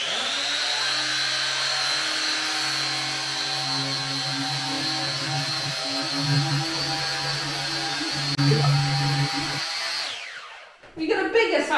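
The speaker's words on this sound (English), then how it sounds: "We got a bigger sander." An electric sander running on a dresser, a steady loud whine and hum held close for about ten seconds before it cuts off, followed by brief handling noise.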